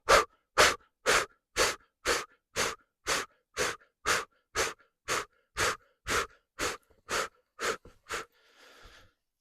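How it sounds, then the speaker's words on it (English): Twenty-odd rapid, forceful exhalations in a steady, even rhythm during a breathwork exercise, each a sharp close breath burst, with a softer breath at the end and no talking. "so you do that 20 quick exhales. Don't worry about the inhalations."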